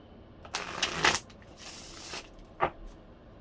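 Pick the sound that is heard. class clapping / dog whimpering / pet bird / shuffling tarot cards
shuffling tarot cards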